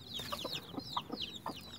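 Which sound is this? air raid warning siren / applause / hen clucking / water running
hen clucking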